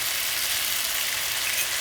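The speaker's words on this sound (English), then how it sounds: "So you saute that." Gobi manchurian sautés in a pan with green chili sauce and black pepper, giving a steady, close hiss of frying that fills the short moment without any talk.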